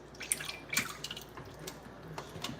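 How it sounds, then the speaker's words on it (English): Oils poured into a hot crock pot for cooking soap, a thin trickling pour with scattered small drips and splashes, close and fairly quiet, with no talking. "We're gonna pour our oils in here."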